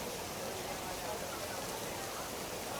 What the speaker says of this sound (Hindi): अच्छी खासी बरसात हो रही है।